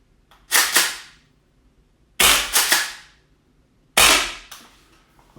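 Three loud gas blowback shots from a VFC Fabarm STF/12 airsoft shotgun, fired at a target about 12 meters away, each a sharp crack with a short ringing tail, spaced roughly 1.5 seconds apart, with no voices.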